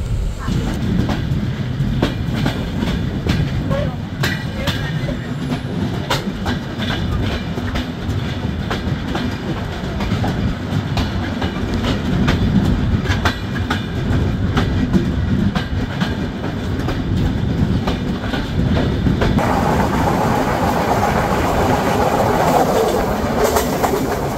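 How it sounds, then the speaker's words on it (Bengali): Silkcity Express passenger train running on rails between Dhaka and Rajshahi, heard from on board as a steady loud rumble with rhythmic clickety-clack of wheels over rail joints throughout, growing slightly louder toward the end. "ট্রেনটি এই মুহূর্তে প্রবেশ করলো শহীদ মনসুর আলী রেলওয়ে স্টেশন।"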